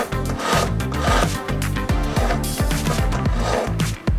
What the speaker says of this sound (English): File any remaining supports and the base of the ring.